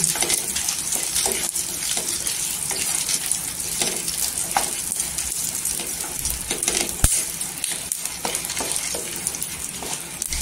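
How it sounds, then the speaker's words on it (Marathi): Peanuts fry in hot oil with garlic for Solapuri peanut chutney, a steady, close sizzling hiss punctuated by faint stirring clicks and scrapes throughout, with no talking. "इथे जे आपण शेंगदाणे घेतलेले आहे ते टाकायचं। छान असं तेलावर परतून घ्यायचं।"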